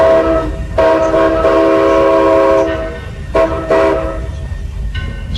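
The C.P. Huntington narrow gauge railroad train at Old Tucson sounds its horn: one long loud blast, then two short sharp toots and a final brief one, close by over a low rumbling background.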